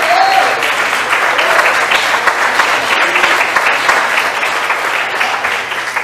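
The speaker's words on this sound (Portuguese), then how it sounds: "E a igreja aplauda ao Senhor em nome de Jesus." A church congregation in Belo Horizonte, Brazil, applauds during a service: steady, loud, dense clapping from many people lasting the whole six seconds, with a brief voice at the start.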